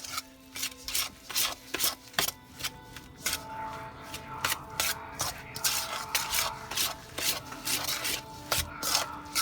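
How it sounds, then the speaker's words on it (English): A spoon mixes Polish potato pancake batter in a bowl, making close, repeated rubbing and scraping strokes in an uneven rhythm with no talk. "you're just going to mix all this together"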